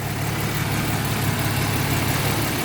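Idle of a 1990 Jeep Cherokee XJ with the Renix 4.0 straight-six running Volvo injectors, a steady close low-pitched rumble with even pulsing and no change in pitch.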